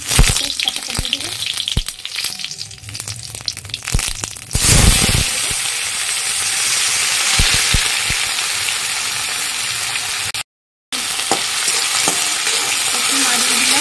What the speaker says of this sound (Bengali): আমার হাতে জিরা আছে, জিরাটা ছেড়ে দেবো গরম তেলে।